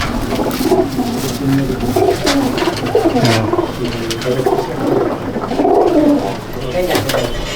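A crowd of pigeons cooing in a loft at Jangipur, Murshidabad, in overlapping low murmurs, close and steady, while someone talks throughout.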